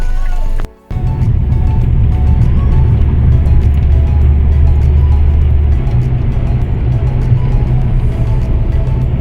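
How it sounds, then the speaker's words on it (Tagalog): Engine rumble and road noise from a car driving on the road during a family trip to the beach in the Philippines, a steady loud drone filling the cabin after a brief dropout at the start. "magdadrive na rin po ako."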